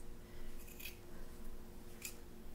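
Scissors snip through wool felt while shaping small pieces for a needle-felted hare, two crisp close cuts spaced apart over a steady low room hum.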